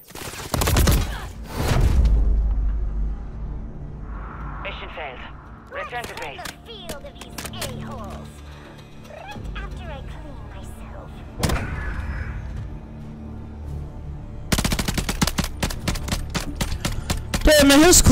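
Bursts of gunfire from a class 7 gun in Call of Duty MWIII, loud volleys at the start and a rapid stutter of shots near the end, with mechanical clicks and clatter between.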